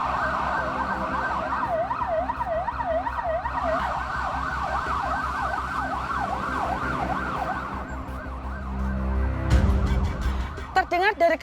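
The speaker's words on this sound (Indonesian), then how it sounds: "Terdengar dari kejauhan samar-samar suara sirine mobil pemadam kebakaran" A wailing fire engine siren cycles steadily up and down, loud and close, with a vehicle rumble beneath and a clatter near the end.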